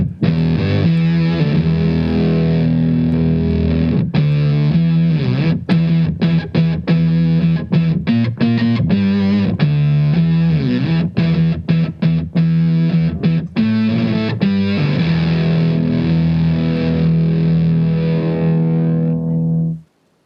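Electric guitar driven hard through a Blackstar CV30 amplifier, producing a continuous, loud, distorted riff with choppy rhythmic strokes and sustained chords for about twenty seconds before cutting off.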